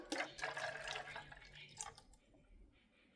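Freshly made juice from a Nama J2 juicer is strained, pouring and trickling with liquid splashes that fade to faint drips, close and quiet.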